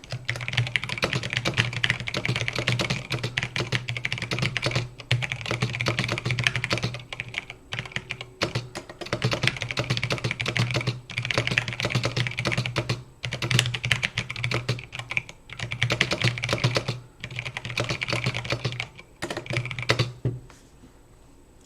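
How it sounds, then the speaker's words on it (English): Rapid computer keyboard typing racing through a passage in Typeracer, dense clattering keystrokes in bursts separated by brief pauses, close and clear with no voices. "The goal is to type out the passage basically as fast as possible."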